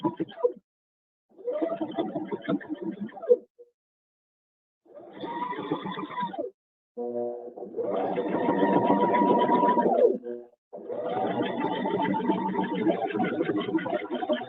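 A sewing machine stitches along the edge of a snapband purse in several bursts of steady whirring, separated by short pauses, close and moderately loud, with no talking.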